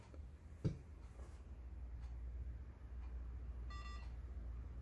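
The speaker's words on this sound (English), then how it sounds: "It should give us one beep followed by two quick beeps." A short series of high electronic beeps from an Amstrad CPC computer running diagnostics sounds near the end, with a faint click early on, over a steady low hum.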